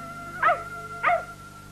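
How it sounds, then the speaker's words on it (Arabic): A cartoon dog gives two short, clear barks about half a second apart, close and moderately loud over a steady background hum, with no talk. "هذا الكلب يشبه بيكي كثيرا"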